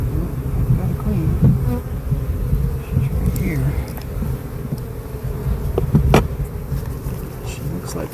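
Honeybees buzzing around an open beehive during a hive inspection, a steady close droning hum with individual bees zipping past the microphone, a few faint handling clicks and no clear speech.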